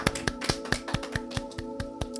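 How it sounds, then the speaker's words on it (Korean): A church congregation claps in thanks, sharp, evenly spaced claps at a quick, steady rhythm over a sustained musical tone, with no talking. "우리 하나님께 감사의 박수 올리겠습니다"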